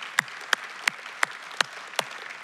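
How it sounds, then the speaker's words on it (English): Sharp hand claps ring out in a church service, six single evenly spaced strikes heard close and clear with quiet gaps between them. "can we give one more round of applause?"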